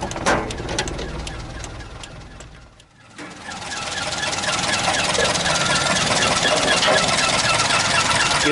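A 1989 Toyota Kijang Super with its 1.5-liter 5K engine and rear-wheel drive idles under an open hood, a steady close mechanical hum with a brief dip partway before settling into an even, continuous idle.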